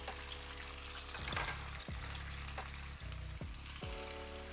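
Crispy breaded chicken wings in KFC style sizzle steadily in hot oil, close and even, with occasional soft shifts and clinks as the pieces are turned.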